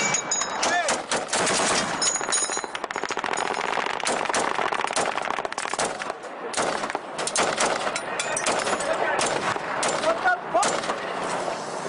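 Heavy machine-gun and rifle fire in a firefight with insurgents in Afghanistan, with dense, continuous rattling bursts and sharp cracks, loud and close, with voices shouting between the shots.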